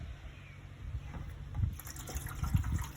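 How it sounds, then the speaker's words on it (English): Water running from a tap into an ordinary kitchen pan, a steady gushing and trickling that grows fuller as the pan fills, heard alone and close. "So just take a pan, any old pan, and fill it up with water."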